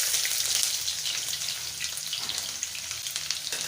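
Chopped onion drops into hot oil for a Bengali lau shak curry with dried taki fish, and it sizzles and crackles in a steady, bright frying hiss that carries on close and alone, with no talking.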